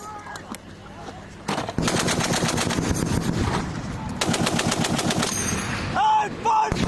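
M2 heavy machine gun and Mark 19 40 mm grenade machine gun fired by U.S. Marines on a range, loud sustained bursts of rapid automatic fire with short pauses between strings, close and dominant, with a brief shout near the end.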